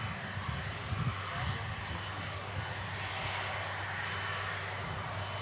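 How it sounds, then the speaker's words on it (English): A TUI airliner arriving at Manchester Airport from Split, a loud steady broadband engine roar that holds constant, with a faint voice briefly underneath near the start. "Here are visual on the next arrival of TUI from Split"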